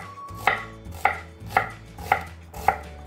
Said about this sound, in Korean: 갈리기 좋게 그냥 듬성듬성 써주면 돼요